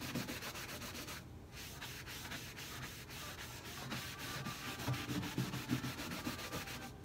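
A rag buffs wax off a wooden china cabinet in a continuous, close, steady rubbing with slight rhythmic swells, and no talking is heard.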